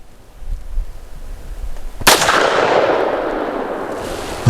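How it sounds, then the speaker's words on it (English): A single loud, sharp gunshot from a 6-inch-barrel .22 Magnum firing a CCI VMAX high-velocity round at a body-armor target, preceded by quiet outdoor ambience and followed by a lingering, ringing decay. "See if I can land this shot."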